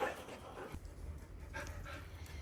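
A dog being dog-sat pants steadily and close by in quick rhythmic breaths, with a slight whimpering tone and low background noise.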